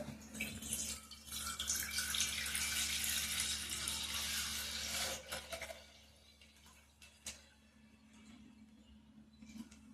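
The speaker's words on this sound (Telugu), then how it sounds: "ఇదిగోండి పాలైతే పోస్తున్నాను ఇందులో" Milk pours into a pot in a steady splashing stream for several seconds, then tapers off into a few small drips and trickles.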